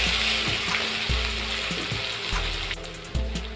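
Finely chopped onions with red chilli and a pinch of asafoetida sizzle and fry steadily in hot oil in a pan, with louder bursts of crackling as the pieces are stirred.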